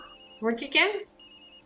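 Phone ringing in the video game Tokyo Dark, a repeating electronic ring heard at the start and end with a character's voice talking over the middle.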